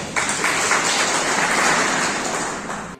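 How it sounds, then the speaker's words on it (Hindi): A workshop audience breaks into applause, a dense, even wash of many hands clapping that starts abruptly, holds steady and fades slightly near the end. "अपने लिए ताली बजाएं।"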